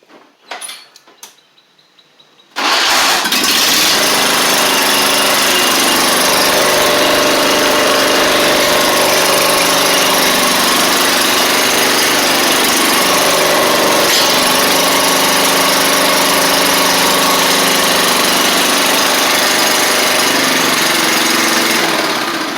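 A John Deere L110 lawn tractor engine, missing and running on one cylinder, starts after a couple of seconds of quiet handling noises and then roars loud and close in a steady, rough drone to the end.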